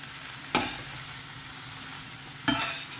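Crushed garlic and ginger fry in oil over a medium flame, a steady soft sizzle broken by two sharp stirring scrapes in the pan, with no voices.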